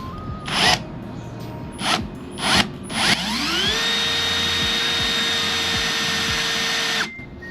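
A power drill drills holes for a CAL Slide Lok handle, running in several short bursts, then spinning up and holding a steady, loud whine for a few seconds before stopping.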